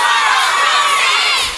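A crowd at a live forró show in 2003 cheers and shouts loudly and continuously. The mass of excited voices fills the space, with the roar dipping slightly just at the end.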